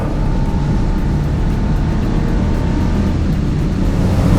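A Porsche 911 Type 911 fitted with a full straight-through exhaust holds a steady, loud engine rumble, deep and continuous without breaks, heard alone.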